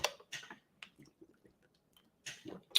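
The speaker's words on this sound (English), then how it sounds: "let me take a moment right now to take a drink of water" A person drinking water close up: a few soft wet sips and gulps with small mouth clicks, separated by quiet pauses, with no talking.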